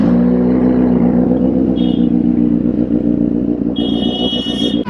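Loud Benelli 600i motorcycle engine idling on a Jaipur street, a steady deep rumble that holds close and continuous throughout, with light clatter and brief higher-pitched whines near the end.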